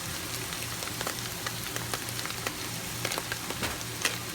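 Seasoned empanada filling with pepper, garlic powder and salt sautéing in a pan, a steady, close sizzle with faint stirring scrapes, heard alone without speech.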